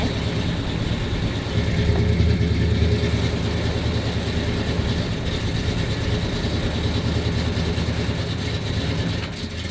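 A 1986 Ford F-250 pickup's Super Cobra Jet engine idles throughout, a steady, deep, continuous rumble with a slight rough texture, close by and fairly loud.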